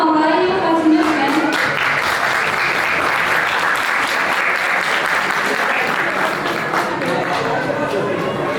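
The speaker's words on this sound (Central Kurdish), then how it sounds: "تکایە بەش بە چەپڵەکانتان هاوڕایی خاتونە بکەن" A hall audience at a Kurdish cultural association evening applauds someone speaker, with dense, loud, sustained clapping filling the whole stretch and a few voices faintly mixed in.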